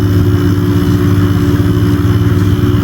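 A window-type air conditioner unit runs noisily with a loud, steady mechanical drone and hum, constant throughout, with no voices.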